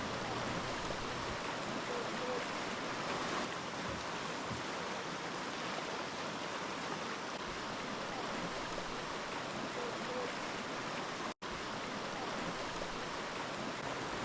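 A river rapid on the Verde River in Arizona rushes as a steady, broad wash of water noise at close range, continuous and even throughout with no break.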